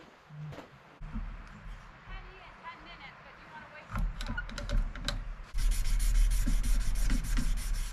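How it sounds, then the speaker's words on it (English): A Damascus fish filet knife is hand sanded at 800 grit, giving soft scraping strokes that grow louder and denser toward the end, with a few brief knocks and some talk in the background. "now it's time to hand sand it at 800 grit."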